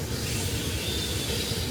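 A passing goods train at Bathpool Park gives a short burst of steady rumbling rail noise with a hissing upper edge, fairly close and continuous, with no talking.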